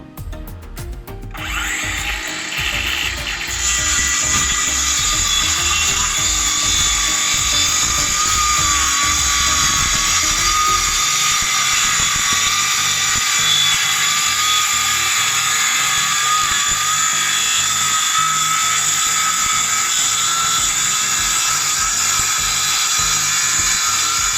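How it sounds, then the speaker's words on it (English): A Ryobi One+ cordless circular saw cutting wooden packers, the motor spinning up into a loud sustained high whine that holds steadily through a long cut, close and prominent. "To cut these packers, I'm using my Ryobi 1 Plus cordless circular saw."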